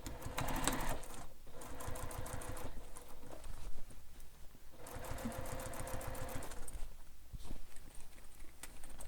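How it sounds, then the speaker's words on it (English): A sewing machine top stitches a bag's main lining in bursts of fast, rhythmic needle clatter, pausing briefly between runs, close and loud. "And now I'm going to top stitch my main lining."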